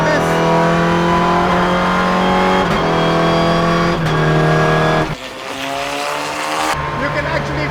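A Volkswagen Vento TC4-A race car screams under hard acceleration, its loud onboard engine note broken by a series of abrupt, aggressive gear shifts, with a sharp drop in intensity partway through before it pulls again.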